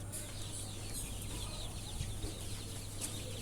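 A flock of 40-day-old native deshi chicken chicks, multi-coloured, on a farm, chirping continuously in dense overlapping peeps over a steady low hum, with no talking.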